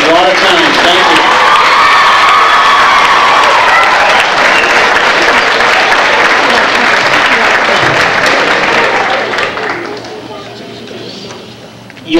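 An audience at a school concert in Brockton, Massachusetts applauds the children in a loud, sustained wash of clapping with some cheering, then fades away near the end.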